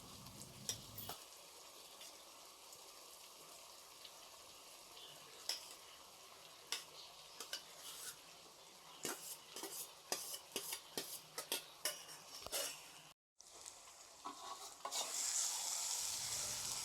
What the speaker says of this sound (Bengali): ভাতের সাথে সব কিছু ভালো করে মিশিয়ে নিচ্ছি